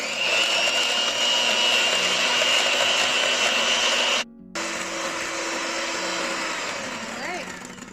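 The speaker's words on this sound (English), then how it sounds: "we whisk until it's kind of foamy" Egg whites with cream of tartar are whisked to a foam by an electric mixer whose steady, loud whir runs almost the whole time, broken by one brief pause before it resumes.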